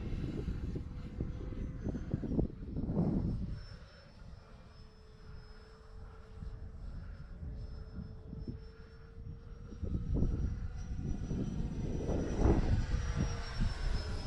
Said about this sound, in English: Oh man, sweet flying jet.